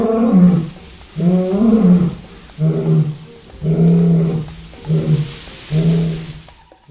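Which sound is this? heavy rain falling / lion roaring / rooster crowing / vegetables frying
lion roaring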